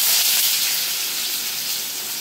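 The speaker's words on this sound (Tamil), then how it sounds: "இப்போ வெந்தயம் போட்டுடலாம். கடகடன்னு தாளிச்சிருவோம்." Fenugreek seeds splutter in hot oil for tempering, a loud, dense hiss and crackle right at the pan that starts strongest and eases slightly over two seconds.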